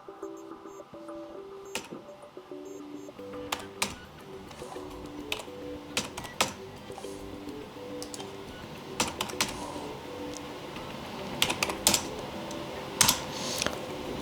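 Code being typed on a Lenovo Legion laptop keyboard, with close, crisp key clicks arriving in uneven bursts and short pauses, and a few louder taps spread through.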